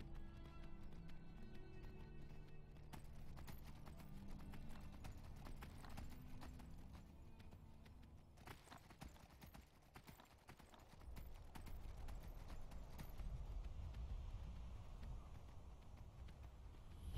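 Horse hooves clip-clop in the video game Skyrim (Elder Scrolls V, PC), a steady rapid rhythm of a running horse that continues throughout alongside game music and ambience, moderately loud and close.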